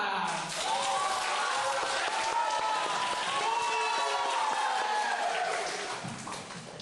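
Audience applause welcoming the third group's hosts at a joint college camp session held at a temple, a dense, even wash of clapping that swells quickly and fades toward the end.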